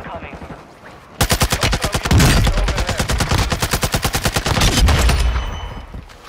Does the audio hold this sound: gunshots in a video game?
yes